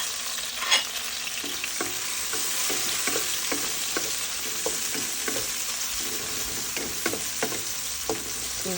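Onion, tomato and green chili fry in an electric pan with a steady sizzle, while a utensil stirs and scrapes close by in frequent soft clicks.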